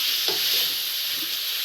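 A tomato mixture is stirred in a cooking pan over an even, close sizzle, with one brief scraping stroke near the start.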